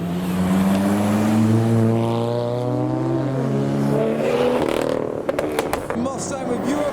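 A modified Toyota A90 Supra pulls away from a car show, its engine note rising and falling in steady harmonic sweeps, fairly close, with crowd noise around it and sharp pops near the end.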